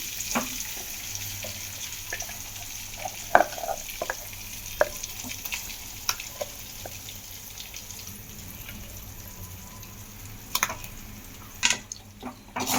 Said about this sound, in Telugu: ఇది మొత్తం వేసేసి బాగా కలబెట్టేసుకోండి,